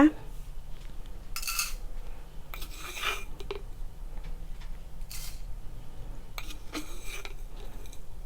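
A spoon scoops coffee powder into a glass with several brief scraping and rustling bursts and light clinks, close and fairly quiet, with pauses between them.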